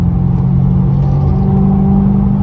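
A 2005 Saleen S281 Mustang engine revs lightly off idle, a loud close steady drone with a low throaty hum and slight rise in pitch.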